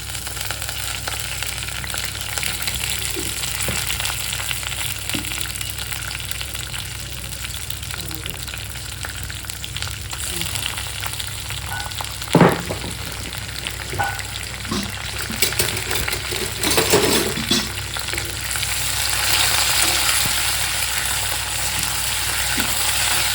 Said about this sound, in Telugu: కొంచెం బాగా గోల్డెన్ కలర్ వచ్చే వరకు ఫ్రై చేసుకుంటాం